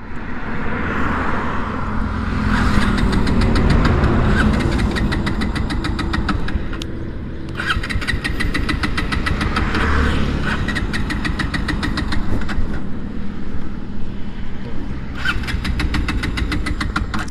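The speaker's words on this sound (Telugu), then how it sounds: "ఒకసారి స్టార్ట్ చేసి చూద్దాం అవుతుందేమో" A Bajaj Pulsar NS125 motorcycle engine starts and settles into a steady idle, close and loud, with a throbbing mechanical chug and a few brief revs that rise and fall.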